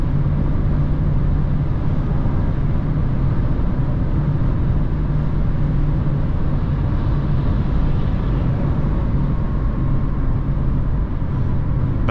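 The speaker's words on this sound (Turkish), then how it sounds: "Bence arabanın içindeki o rüzgar sesi ciddi anlamda iyi." A steady, loud low rumble of wind and road noise inside a moving Dacia Duster 1.0 TCe 100 hp, constant throughout with no talking.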